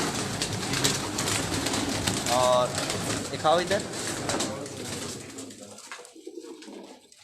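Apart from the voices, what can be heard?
pigeons cooing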